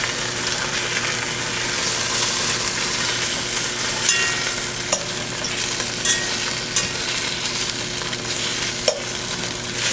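Beef cheeks sear in a hot pan with a steady, dense sizzle that holds evenly throughout, broken by a few faint clinks and taps.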